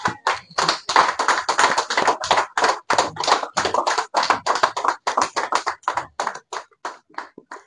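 A French-speaking church congregation at a pastor-led service claps in a quick, uneven rhythm of sharp, close hand strikes that run for several seconds before thinning out at the end.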